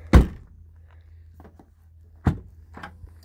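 A newly installed rear hatch latch actuator on a 2013 Hyundai Elantra GT fires with two sharp, close mechanical thunks about two seconds apart, each followed by softer clicks, over a low steady hum.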